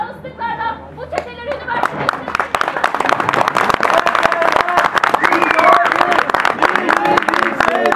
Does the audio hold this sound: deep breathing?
no